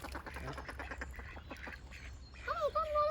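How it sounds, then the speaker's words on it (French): Ducks quack in a short burst of calls, rising near the end. The quacking comes under and after faint nearby talk and background chatter. "Canard."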